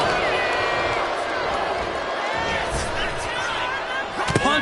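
A wrestling arena crowd cheers and roars continuously at a moderate distance at an NXT event, with a commentator talking over the noise and a couple of sharp thuds near the end.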